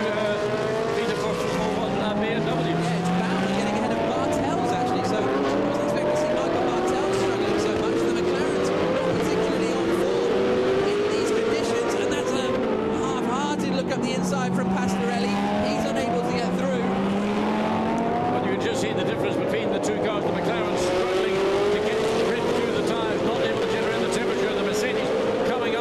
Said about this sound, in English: One of the GT3 cars, that's the Mercedes-Benz getting ahead of the second of the two.